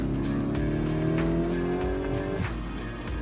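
A 2023 Lamborghini Urus Performante's engine revs hard on a raceway in rally mode, its loud rising roar climbing steadily before a sudden gear-change drop.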